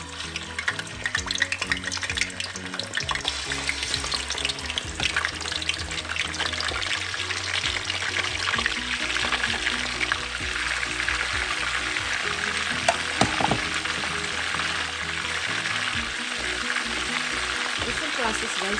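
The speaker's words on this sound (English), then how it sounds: "So let's fry the fried fish." Catfish sizzles steadily in hot oil in a pan, a dense crackling hiss lasting throughout, with occasional clinks and stirring noises mixed in.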